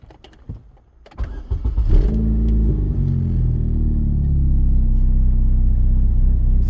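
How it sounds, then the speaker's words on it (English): A car engine cranks briefly after a few faint clicks, then catches and settles into a steady, loud, low idle rumble that continues to the end. "I'm going to start the engine and watch this number"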